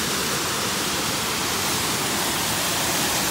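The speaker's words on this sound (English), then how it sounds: "these are the falls" A steady, broad roar of rushing water from the falls at Sunbeam Creek in Mount Rainier National Park, heard nearby, constant and unbroken throughout.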